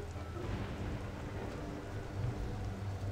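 Steady rain hisses with a low thunder rumble in the stealth game Thief, a constant dense wash of storm noise at low level with no voices.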